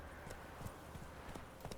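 A horse's hooves clip-clop at a steady trot on a road in The Witcher 3 video game, faint and continuous under a soft ambient bed.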